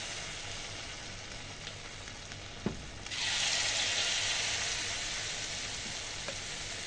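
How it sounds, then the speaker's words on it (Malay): Anchovy rice fritters (cucur nasi bilis) frying in oil, a steady close sizzle that swells louder after a small clink as more batter goes in, with no talking. "Okey, kita gorengkan dia."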